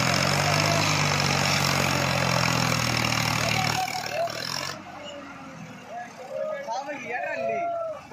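A Swaraj 963 FE tractor's diesel engine runs with a loud, steady, revved drone for about four seconds, then cuts away to quieter outdoor surroundings where several people talk.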